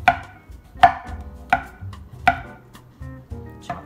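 Mushrooms for a vegan pizza topping are chopped with a knife on a cutting board, four or five sharp, evenly spaced thuds close by, each with a brief clack.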